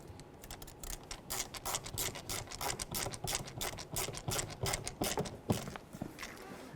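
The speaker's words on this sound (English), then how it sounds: "let's get our panel trim bolts in here. Phillips head screwdriver" A Phillips screwdriver drives panel trim bolts into a 2007-14 Ford Edge front door during a window regulator replacement. Rapid, close ratcheting clicks run steadily throughout with no talking.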